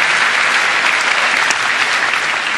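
Loud, dense applause from a large audience at a hacker conference closing ceremony, sustained and even throughout with no voices standing out.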